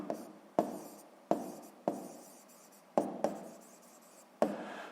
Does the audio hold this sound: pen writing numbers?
yes